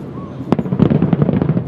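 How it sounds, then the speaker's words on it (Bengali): Fireworks burst during a US Independence Day night celebration, a rapid string of crackling pops and bangs following one sharper initial blast, heard at a moderate distance. "রাতে যুক্তরাষ্ট্রের বহু এলাকায় দেখা যায় বর্ণিল আতশবাজি।"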